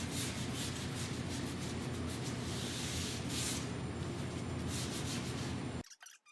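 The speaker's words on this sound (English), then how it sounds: "A little finish sanding to round those off." Steady, close finish sanding on rounded-over wooden edges of a downdraft sanding table's dust chute door and end panel, a continuous abrasive rubbing hiss that runs unbroken for nearly six seconds and then stops abruptly, leaving near silence.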